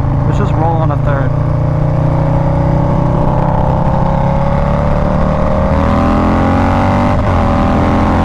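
A 150 whp Harley motorcycle engine revs on the throttle, a loud, deep, close rumble that climbs steadily in pitch with a brief blip near the start and a short dip later.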